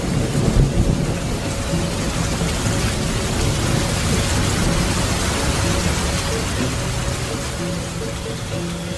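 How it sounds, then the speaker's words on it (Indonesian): Heavy rain pours steadily with strong wind and rolling thunder, a dense, continuous storm roar filling the whole span with low rumbling swells. "hujan pun turun dengan lebatnya, disertai dengan angin ribut dan halilintar yang sambung menyambung"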